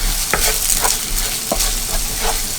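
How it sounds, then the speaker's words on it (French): Chopped onions and garlic frying in a pan, a steady soft sizzle with a few brief stirring scrapes at irregular intervals, close and fairly quiet, with no talking. "Je vais laisser un petit peu mes oignons rissoler."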